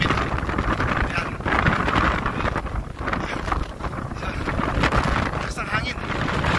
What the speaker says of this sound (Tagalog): Lakas ng hangin. Grabe o.